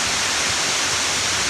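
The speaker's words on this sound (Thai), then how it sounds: "Look at we see a waterfall." Steady broadband roar of a waterfall in Olympic National Forest, a constant rushing wash of falling water heard close and loud with no break or voices.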